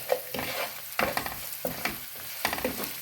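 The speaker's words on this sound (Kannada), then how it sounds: "ನೀಟಾಗಿ ಮಿಕ್ಸ್ ಮಾಡ್ಕೊಳ್ತಿದ್ದೀನಿ" A spoon scrapes and stirs mango rice with salt in a pan, with soft sizzling underneath and a series of irregular scraping strokes close by, no voices.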